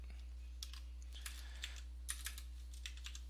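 A Docker command is tapped out on a computer keyboard: quick, light, irregular keystrokes, close and faint, with a steady low electrical hum beneath.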